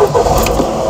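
A Ford Fiesta Mk4.5 engine idling smoothly nearby, a loud steady low hum with a slight rise in the middle and no speech.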